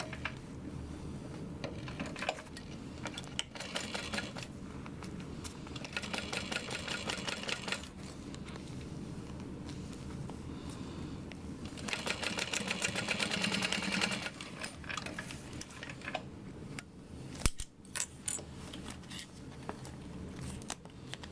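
Sewing machine top stitching through a bag, running in several bursts of rapid mechanical needle clatter with short pauses between, close and fairly quiet.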